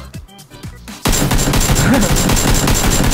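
Loud burst of sustained automatic gunfire in PUBG erupts after a brief quiet moment with faint voices, then continues densely and steadily to the end, close and intense.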